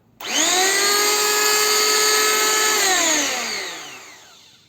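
A Ronix electric planer is switched on and runs at a steady high-pitched whine for about three seconds, then spins down as the motor winds off, close and alone.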